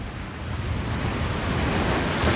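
Sea waves roll onto Digha beach, a continuous close wash of surf with rumbling low noise and wind buffeting the microphone, swelling slightly toward the end.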